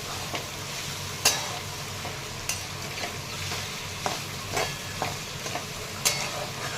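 A ground paste of cluster beans, green chili, coconut, garlic and curry leaves sizzles and fries in oil, with a spoon scraping and stirring the pan at irregular moments, close and steady with no voices.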